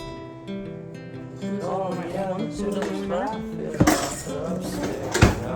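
Stackable measuring cups clink sharply twice while being handled, bright metallic knocks standing out over people talking nearby.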